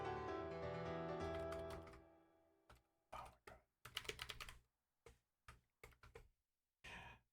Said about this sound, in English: Literally, I'm trying to type and I type the things next to it.